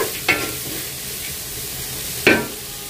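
Chicken vegetable fried rice stir-fried over high heat, with steady sizzling underneath and two sharp scraping strokes of the spatula against the pan, close up and with no speech.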